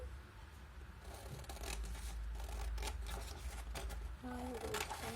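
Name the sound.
cutting paper in half for a paper boat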